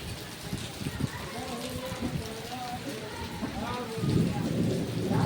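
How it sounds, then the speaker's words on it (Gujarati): Heavy monsoon rain pours steadily, with low thunder rumbling through the downpour and swelling louder near the end, while a voice talks over the storm. "ગાજે હે એમ જોરદાર વરસાદ"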